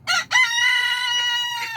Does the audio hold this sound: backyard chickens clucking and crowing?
yes